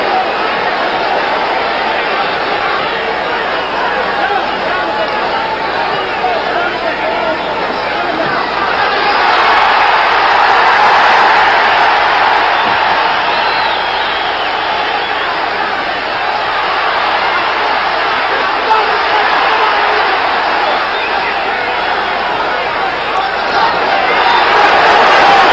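A boxing crowd at a 1973 fight between Jose Napoles and Clyde Gray roars in a continuous, broad wash of noise that swells louder midway, with a commentator talking over it.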